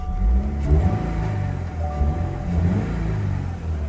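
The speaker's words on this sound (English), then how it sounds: "Let's listen to the engine." Close up inside the cabin of a 2022 Subaru BRZ, its engine hums and rumbles steadily with a few gentle rises and falls in pitch, light revs rather than hard acceleration.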